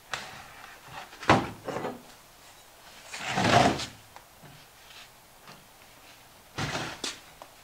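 A wooden pullout couch in a converted school bus sliding and thudding open, several separate wooden scrapes, knocks and a longer grinding slide, close and fairly loud with quiet gaps between.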